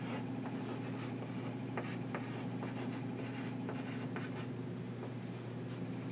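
Pen writing on paper, quiet scratchy strokes in short irregular bursts, close and alone over a faint steady background hum.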